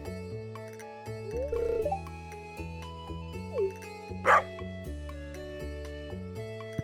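In the video game Stardew Valley, a cartoon dog gives a few short, yappy barks over steady game background music, with a brighter bark burst near the end.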